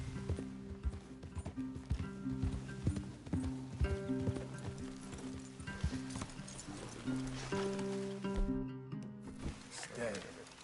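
Horse hooves clip-clopping steadily in the video game Red Dead Redemption 2, a continuous close walking rhythm with a brief neigh near the end, set against a low musical drone.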